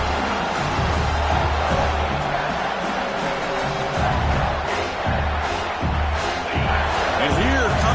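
Football stadium crowd roaring steadily at a game as the home fans try to rally the defense for a red-zone stop, a dense wash of noise under a commentator's voice throughout.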